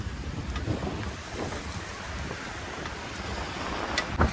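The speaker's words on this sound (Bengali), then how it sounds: "আবার বৃষ্টি পড়তেছে, যাই একটু দাঁড়াই।" Heavy rain falls in Dammam, Saudi Arabia as a broad, steady hiss mixed with wind buffeting the microphone, with occasional louder gusts and no talk.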